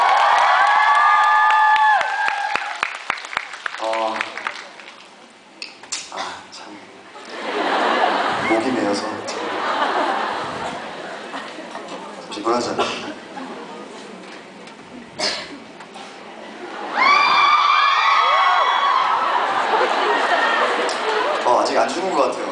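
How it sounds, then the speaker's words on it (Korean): Concert audience at a Korean show screaming and cheering in loud bursts, with whoops and laughter rising and falling over about twenty seconds, a big crowd filling the hall. "물 한 잔 마시니까 비명소리가 나네요."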